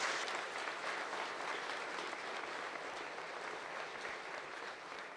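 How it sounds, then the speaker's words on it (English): An audience at a conference claps steadily for several seconds, a dense and even wash of applause with no voices standing out. "Let's give a round of applause to our opening speaker."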